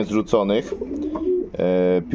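Show pigeons being readied for an exhibition coo in a run of soft, throaty, rolling calls, with a few bursts close by and a longer sustained coo near the end.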